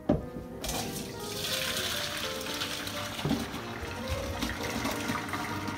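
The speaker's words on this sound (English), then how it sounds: "We want to take out some of the starchy water in case we need it for our sauce." Starchy pasta water scooped and poured out of a cooking pot on a home stove, a rushing, splashing liquid sound that runs steadily for several seconds after a sharp start.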